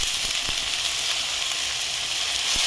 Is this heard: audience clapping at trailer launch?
no